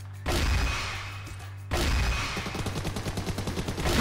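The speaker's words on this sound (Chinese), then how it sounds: "刚刚开枪已经暴露了我们" Gunfire from an AWM sniper rifle in a battle royale video game: two sharp, loud reports ring out, then a rapid run of crackling shots clatters on to the end, with no talking.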